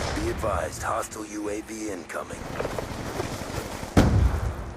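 Call of Duty: Black Ops 2 multiplayer gunfire and explosive booms mixed with voices, ending in a loud burst of shots near the end.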